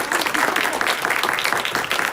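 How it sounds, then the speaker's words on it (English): Audience applause at a summer youth volunteer recognition event, dense clapping from a sizable crowd that rolls on steadily and loudly for the whole stretch. "Let's give them a big round of applause."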